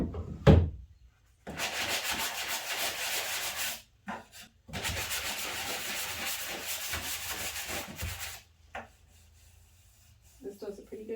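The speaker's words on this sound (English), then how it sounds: "I don't need to sand this too much because I'm putting the hardware back on it." A sanding block rasps back and forth across a painted wooden hutch in two long steady passes with brief pauses between, close and fairly loud, followed by quieter handling.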